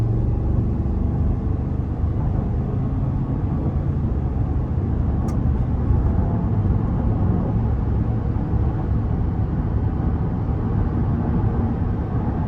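A 2022 Cadillac Escalade accelerates onto the interstate, giving a steady, low, rumbling engine and road drone heard from inside the cabin that stays even and unbroken throughout, with no one talking.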